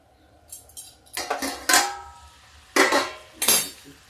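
A lid goes onto a pan of creamy pea curry with raisins and cashews, making a few close metallic clanks and clatters in separate bursts with short pauses between, and no voices.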